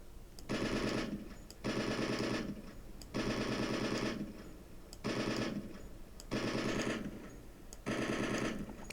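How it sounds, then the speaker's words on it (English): A weapon in the video game Project Reality fires six sustained bursts of rapid automatic fire, each lasting about a second, separated by short pauses. "Fire short bursts. If you fire without a break, the weapon will overheat"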